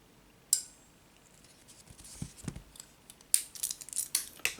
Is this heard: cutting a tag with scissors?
yes